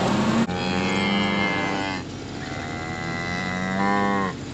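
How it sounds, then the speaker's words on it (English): Loud, close cow moos in a barnyard, two long drawn-out calls one after the other, with a low outdoor rumble behind them. "These cows were perfectly content until they saw me drop a bale for the calves"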